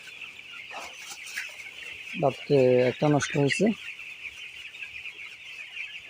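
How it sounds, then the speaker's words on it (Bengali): Broiler chickens recovering from illness under medication give a short burst of clucks near the middle, against a steady insect-like hiss, with a person talking nearby. "মুরগি এখন একটু সুস্থ আছে"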